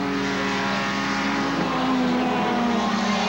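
Sedan race cars dueling on the Lime Rock racetrack in a 1993 Sedan Tour Series race make a loud, steady engine drone whose pitch climbs slightly toward the end, with no talk over it.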